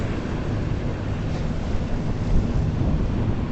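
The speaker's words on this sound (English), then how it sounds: "We're going to watch the wakes now so we don't get splashed here." Waves from boat wakes slosh and splash continuously around a moving boat near Brooklyn Bridge Park, mixed with wind buffeting the microphone and a steady engine rumble.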